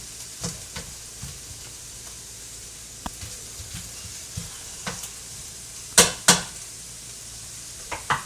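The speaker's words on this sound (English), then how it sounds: "we're going to cook the onions and carrots some more" Onions and carrots cooking in a pot over raised heat give a steady soft sizzle, broken by light scrapes and clinks of stirring and two louder sharp knocks near the end.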